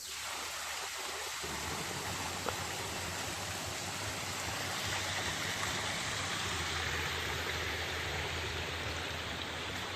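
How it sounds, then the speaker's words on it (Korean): Wangbang Waterfall in a valley near Dongducheon pours with a steady, loud rush of water that fills the whole stretch without pause, with no voices over it. "아, 이게 그 폭포네요."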